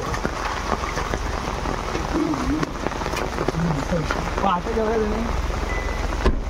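Rain falling over an outdoor Ganesh idol arrival procession, a constant patter filling the scene beneath crowd noise and nearby voices.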